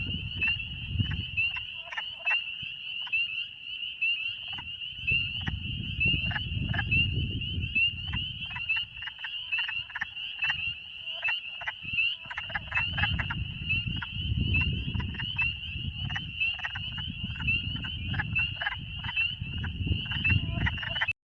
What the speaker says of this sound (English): Got a wood frog right there.